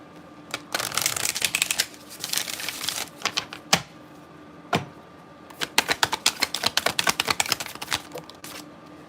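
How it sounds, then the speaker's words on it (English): Sacred Destiny Oracle cards are shuffled close up in repeated bursts of rapid riffling flutters and sharp taps, with short pauses between rounds. "I'm also going to pull a Sacred Destiny Oracle card as well."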